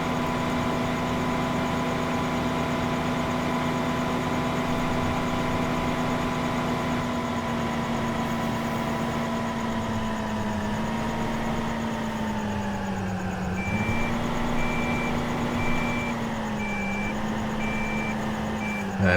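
A harvester in Farming Simulator 2015 rolling back into the shed, its steady droning engine running throughout with a repeating reversing beep that starts partway through, alone and close.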